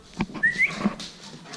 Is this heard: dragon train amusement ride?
no